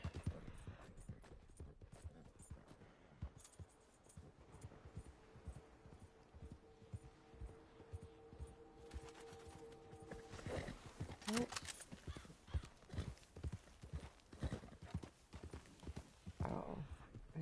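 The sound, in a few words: horses clip-clopping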